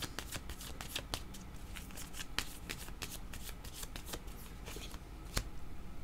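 Tarot cards being shuffled and drawn by hand, a steady run of crisp riffling snaps and soft slides close to the mic, with no voices.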